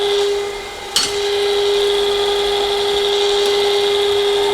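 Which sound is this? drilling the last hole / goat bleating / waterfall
drilling the last hole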